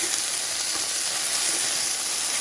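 Garlic hits a pan of frying onions for a hearty beef soup, giving a loud, continuous close-up sizzle that holds steady throughout without talk.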